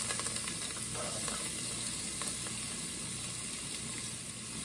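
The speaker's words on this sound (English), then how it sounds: "Put the garlic in the pot." Garlic sautéing in about two tablespoons of olive oil in a pot, giving a steady, close sizzle and crackle that holds without a break, with no talk.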